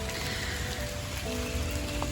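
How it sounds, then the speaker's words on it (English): Steady rain falling on a backyard forest during an Arkansas thunderstorm, a dense even patter that stays constant and close throughout, with no distinct thunder clap standing out. "We have been having thunderstorms for hours today."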